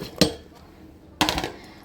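Two sharp metallic clanks of pots and utensils as vegetables go into a pressure cooker for pav bhaji, close and brief with a quiet pause between.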